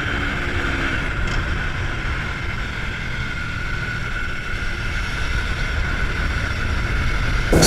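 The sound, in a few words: Aprilia Tuono 1100 V4 Factory motorcycle engine accelerating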